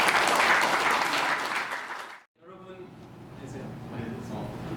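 A book launch audience claps loudly and densely to welcome a guest, then the applause cuts off abruptly; after a brief gap a quieter, thinner patter continues under some faint talk.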